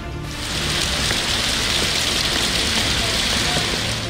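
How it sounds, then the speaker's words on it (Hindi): Heavy monsoon rain falling across Punjab cities, a dense steady hiss of downpour on surfaces that swells after the first half second and stays loud and even. "पंजाब के मुख्तलिफ शहरों में जारी बरसात ने नशेबी इलाकों को डबो दिया।"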